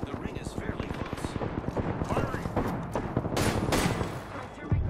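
Battle royale gunfire pops in quick repeated bursts, some shots close and loud, others more distant, while players talk over the shooting.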